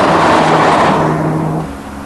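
A Mazda RX-7 FC cruises at speed in fifth gear, with a loud, steady engine and road drone from inside the car that eases off slightly near the end.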